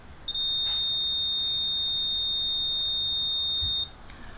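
A multimeter gives a single steady high-pitched continuity beep, held for about three and a half seconds while wires inside a pair of DT1990 PRO headphones are tested, then it cuts off, leaving faint room noise.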